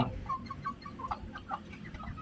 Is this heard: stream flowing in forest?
no